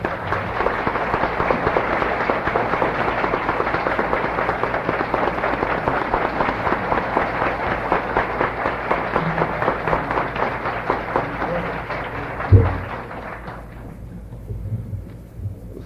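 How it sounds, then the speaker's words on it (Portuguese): Sustained, dense applause from a large audience at a formal lecture presentation, loud and steady for about thirteen seconds before tapering off, with a brief low thump near the end. "Eu peço, emocionado, uma salva de palmas para o Dr."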